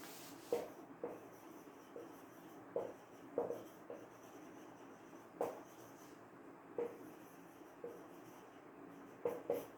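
Pen or marker writing out a physics solution on a surface, a series of short scratching strokes and taps in uneven bursts, fairly close and quiet, with no talking.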